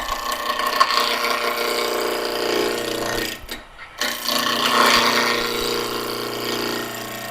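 A wood lathe with a big pulley spins at about 1700 RPM while a scrap-wood blank for muddlers is roughed round, giving a steady, close rasping scrape that drops out briefly before resuming.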